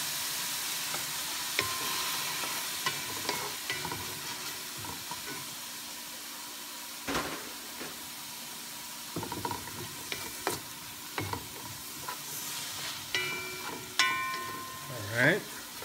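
Balbacua ingredients stir-fried in a pan with fish sauce and soy sauce, giving a steady low sizzle with scattered clinks and stirring scrapes, fairly faint throughout.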